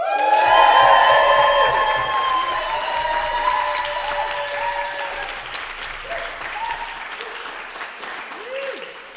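Audience applause in a debating chamber, loud at first and gradually thinning over about nine seconds, with tonal sounds and a few voices rising above the clapping.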